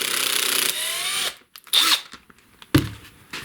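A power driver backs Torx T27 screws out of a STIHL chainsaw handle: one sustained whirring run, then short bursts separated by brief silences, close and fairly loud.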